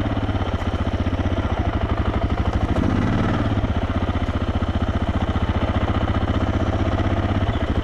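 A big motorcycle ridden along a narrow single-track trail toward Gold Camp's Tunnel 4, its engine thumping in a loud, steady rapid pulse close by, with a brief swell in revs midway and no talk.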